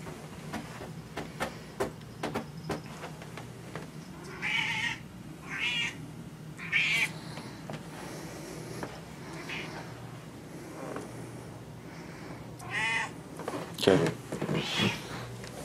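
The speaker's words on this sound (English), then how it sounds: "my cat definitely lets you know when it's time to eat" A hungry cat meows repeatedly for food indoors, with several fairly close, drawn-out meows spaced irregularly over a low steady hum and small household noises.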